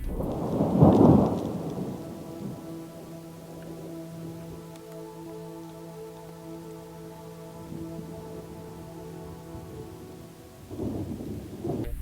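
A sudden thunderstorm rolls in over open Wyoming hunting country, with heavy rumbling thunder at the start and a steady wash of rain, a low sustained droning tone underneath, and another swell of thunder near the end.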